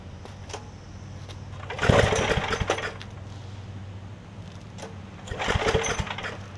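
An already warm engine restarted: two separate loud, rough bursts of cranking and sputtering running, a few seconds apart, over a low background rumble, with no talking.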